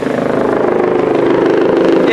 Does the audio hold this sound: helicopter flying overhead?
yes